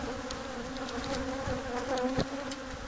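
Dense, steady buzzing of many bees inside a hive during a bee removal in San Diego, a continuous close drone with no talk over it.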